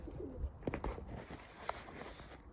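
Frightened pigeons or doves cooing and fluttering inside a coop, soft irregular coos and rustles close by, with faint background noise and no talking.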